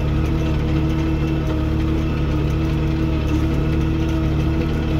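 A tractor engine runs loud and steady under a spraying pass through a sunflower field, a continuous low droning hum with only slight rises as it speeds up a little.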